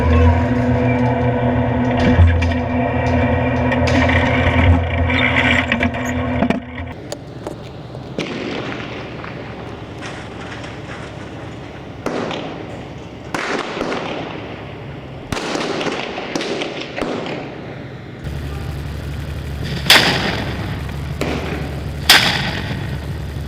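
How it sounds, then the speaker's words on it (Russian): A tank fires a high-explosive round into ruined buildings in Syria, giving a series of heavy booms and crackling blasts with rumbling debris, some loud and close, others more distant, echoing through the urban ruins. "Еще один выстрел осколочно-фугасным, чтобы зачистить руины."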